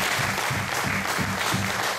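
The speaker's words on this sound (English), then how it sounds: "Let us give a final clap to our panel" Conference audience applauding a panel discussion, a dense wash of clapping hands from many people, fairly steady and moderately distant, filling the room throughout without talk.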